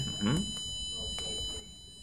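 A homemade motion-detector alarm buzzer sounds a steady, high-pitched electronic tone that runs unbroken through the whole moment. A voice speaks briefly near the start.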